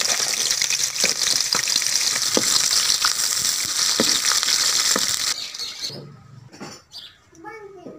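Onion frying in hot ghee, with a loud dense sizzle and stirring clatter for about five seconds before it cuts to quieter, patchy sound.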